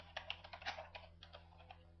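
Keystrokes on a Windows computer keyboard tap out in quick, irregular bursts, close and fairly quiet over a steady low electrical hum.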